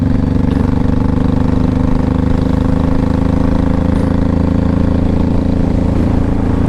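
A 2005 Honda Shadow Saber 1100 motorcycle engine runs steadily and loudly up close, a continuous low throbbing idle with no change in pace.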